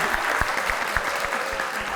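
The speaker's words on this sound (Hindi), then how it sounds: "भाई पहले तो बहुत सारी तालियां हो जाएं वीना जी के लिए" An audience applauds for Veena Malik, giving steady, sustained clapping with individual claps audible throughout the crowd and no talking over it.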